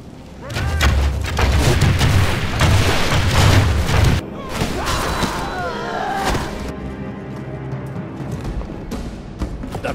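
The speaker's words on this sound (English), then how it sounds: "His archers raise their bows and fire into the shield wall." A volley of arrows loosed by archers into a shield wall in Medieval II Total War, a dense clatter of thuds and impacts with battle noise, easing into a quieter din, with a voice speaking over it.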